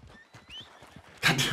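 A tired, out-of-stamina horse in Red Dead Redemption 2 clip-clops with a soft, even run of hoof beats, then a sudden loud burst of noise cuts in at the end.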